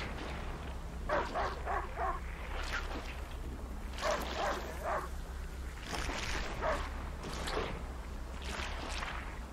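A dog in the video game A Plague Tale: Innocence barks in repeated short bursts, several clusters spread over about ten seconds, moderately distant over a low steady background hum.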